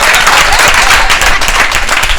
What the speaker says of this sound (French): Je vous demande d'applaudir Inès.